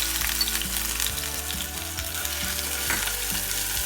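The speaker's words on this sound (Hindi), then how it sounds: "इसके लिए मैंने 3 टेबलस्पून ऑयल लिए, इसमें मैं जिंजर गार्लिक पेस्ट डालूंगी" Ginger garlic paste sizzles in about three tablespoons of hot oil, a dense, even, close frying hiss with faint stirring clicks and no voices.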